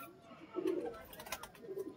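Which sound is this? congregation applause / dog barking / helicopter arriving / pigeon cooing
pigeon cooing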